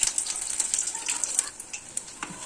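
Banana flower fritters frying in hot oil in a home kitchen, a steady close crackle and sizzle with small pops, continuous and moderately loud with no talk.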